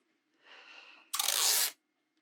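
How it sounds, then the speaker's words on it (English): Tape is torn to add a second layer, first with a softer peel of about half a second, then a sharp, louder rip that stops abruptly, close and alone. "so I'm going to actually add a second layer of tape."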